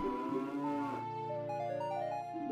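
Video game cattle moo in a long, drawn-out call that rises then slides down in pitch, clear and close with no talk over it.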